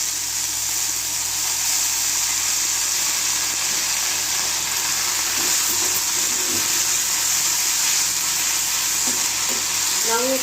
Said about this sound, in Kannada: ನಾವು ಪುದೀನಾನ ಜಾಸ್ತಿ ಫ್ರೈ ಮಾಡಬಾರ್ದು